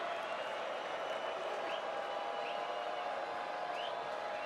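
A pro-Alabama crowd fills a stadium in Nashville at an Alabama at Vanderbilt college football game, a steady, distant roar of cheering and scattered clapping holding throughout.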